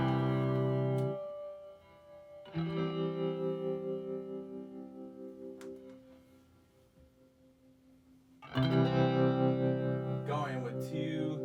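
Stereo electric guitar chords through a Digitech TR-7 modulation pedal set to vibrato, with a pulsing wobble in the sustained notes, two strummed chords ringing and decaying between them, no talking.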